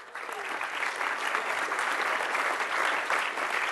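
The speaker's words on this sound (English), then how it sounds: "please give a round of applause for Dr. Parth Shah" An audience claps continuously for a Doctor-in-Training of the Year award finalist, dense and loud applause filling the room from start to finish without letup.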